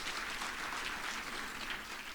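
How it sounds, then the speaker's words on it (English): Faint, distant audience applause at a retirement celebration, a soft continuous wash of clapping from a room full of people. "give him a round of applause"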